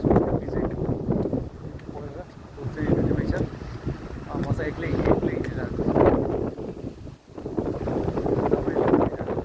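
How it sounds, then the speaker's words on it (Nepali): Gusty cold wind buffets the microphone in rising and falling surges in Tallinn, Estonia, while someone speaks over it. "चिसो हावा एकदम चिसो हावा चाहिँ लागिरहेको छ"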